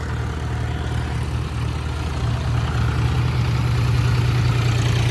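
An Eicher tractor engine labours under a full load of 200 sacks in a farm field, a steady low diesel drone that holds loud and continuous throughout with no talk.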